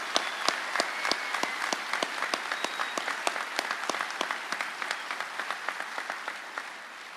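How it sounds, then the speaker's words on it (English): A graduation audience applauds the police academy's Class 243 with sustained, dense clapping, a few sharp individual claps standing out in a steady rhythm and the applause tapering off near the end. "Give them a round of applause, please."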